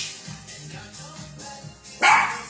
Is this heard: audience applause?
no